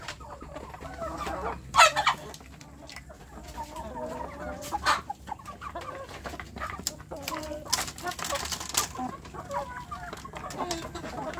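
Kampung chickens cluck inside their coop, with scattered soft clucks and a few sharper calls at close range, fairly quiet overall.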